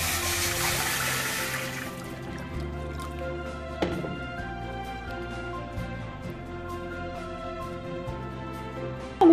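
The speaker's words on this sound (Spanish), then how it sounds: "le vamos a agregar agua para ponerlas a cocer" Water pours into a pot holding unpeeled vegetables set to boil, starting as a bright rushing splash and settling into a steady trickle and drip with a few clinks of the pot.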